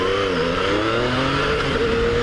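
Yamaha FJ-09 motorcycle engine revving up, a steady, loud mid-pitched drone with rising and falling harmonics as the throttle opens, close by and continuous with no talking.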